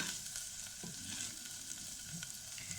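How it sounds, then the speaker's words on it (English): Onion and turkey with paprika fry steadily in a pan, a continuous close sizzle with occasional soft stirring scrapes and no voices. "you will really keep on roasting it till the onion will get a nice brown color"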